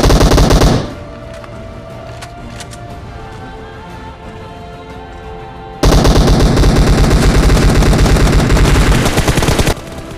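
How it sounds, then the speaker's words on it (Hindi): Sustained automatic gunfire from a Groza rifle and an M249 machine gun in a mobile battle-royale game, with a dense loud burst at the start, a quieter stretch of scattered shots, then another loud continuous rattle of fire. "तो मैं अपने टीममेट को बोलता हूँ कि फायर करो, और वो करता भी है।"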